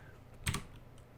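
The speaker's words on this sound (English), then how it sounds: "Let's see if I can type this in right." A short burst of computer keyboard typing, a quick cluster of keystrokes, faint and close over a quiet room hum.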